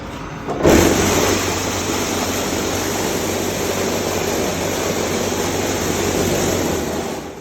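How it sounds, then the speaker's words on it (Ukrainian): A vibrating table for casting reinforced concrete fence posts starts up abruptly and runs with a loud, steady mechanical hum and rattling drone that holds constant throughout. "Так працює вібростіл"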